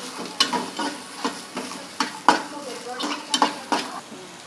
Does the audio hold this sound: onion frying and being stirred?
yes